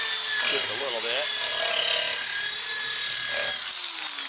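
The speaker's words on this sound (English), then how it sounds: "This has been one heck of a drill. It's a 5/8 Hitachi." A 5/8 Hitachi power drill whines with a steady high motor tone, running throughout at close range while someone speaks over it.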